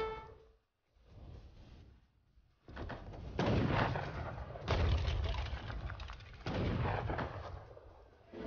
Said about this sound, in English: I shouldn't have fought the cannons